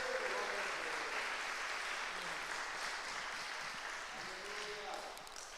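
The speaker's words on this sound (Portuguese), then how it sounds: "Aplaudem ao Senhor Jesus pela palavra." Church congregation applauding during a teaching service, a dense, steady wash of many hands clapping, fairly distant and sustained, with faint voices underneath.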